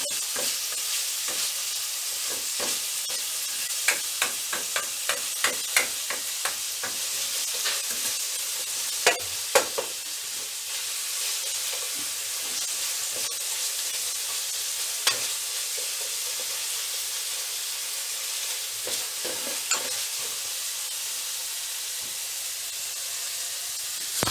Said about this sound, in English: I am going to fry it till the raw smell of onion, garlic, and ginger goes away.